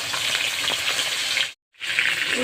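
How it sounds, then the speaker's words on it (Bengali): Small sarputi fish frying two at a time in hot oil for posto, a dense, loud close-up sizzle that cuts out briefly to silence before resuming. "তেল গরম হয়ে গেছে এখন আমি মাছ ভেজে নিচ্ছি"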